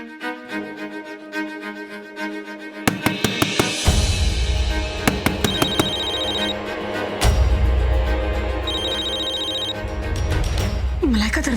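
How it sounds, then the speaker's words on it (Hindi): Telephone ringing in a home during a TV drama scene, with repeated bursts of electronic ring tones over a loud music and effects bed, starting a few seconds in. "लगता है शेखर का फोन है।"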